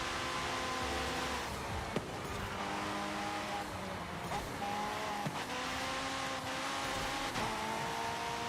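A car accelerating in the video game Forza Horizon 5, engine tone climbing through several gear changes with tire squeal, loud and continuous across the stretch with no talking.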